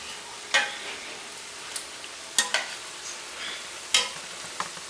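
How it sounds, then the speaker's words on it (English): Puff puff dough balls frying in hot oil and being flipped, a soft steady sizzle with several sharp clicks and taps of the utensil, close and fairly quiet. "So when one side is nice and golden brown, I'll just flip to the other side."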